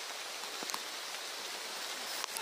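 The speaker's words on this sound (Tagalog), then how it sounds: "Buta na kami ng ulan na naman." Steady rain falls with a soft, even hiss, faint and continuous, with no voices.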